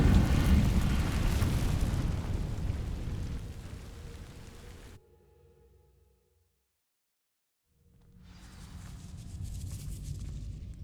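A fire spell ignites dry vines in the Hogwarts Legacy video game, giving a loud whooshing, crackling burst that fades into near silence before a low rumbling swell returns.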